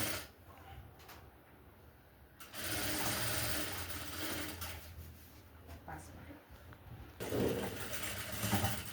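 A sewing machine stitches the piping on a blouse in quiet runs, then in louder, steadier bursts, with a person talking over the mechanical whir.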